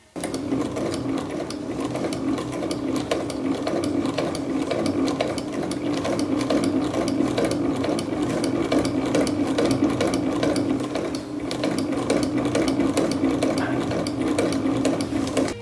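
A sewing machine stitches the sleeve of a pirate-style shirt, running in a continuous, close, steady mechanical whir with rapid needle clatter and only a brief pause near the end.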